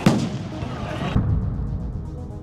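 Two heavy booms, one at the start and another about a second later, from explosions in news footage of street unrest in Los Angeles, each trailing into a rumbling tail.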